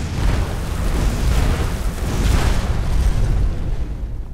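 A loud explosion in Skyrim rumbles through a Moria mine passage, a dense sustained boom with heavy low roar and debris noise lasting several seconds before starting to tail off.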